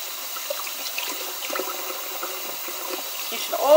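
Hot water runs from a tap into a sink during household cleaning, a soft steady trickle with light splashing that swells louder near the end, no talk over it.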